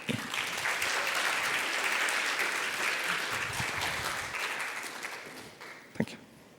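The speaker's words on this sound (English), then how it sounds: "round of applause for Teemu" Audience at a WordCamp Lithuania conference applauding speaker Teemu, a dense, steady round of clapping that holds for several seconds, then thins and fades near the end with one sharp clap.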